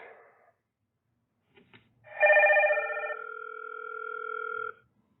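A Hikvision villa door station calls a phone through the Hik-Connect app, and an electronic ringtone sounds clearly. It is one steady, bright, melodic ring lasting a few seconds with no voices over it.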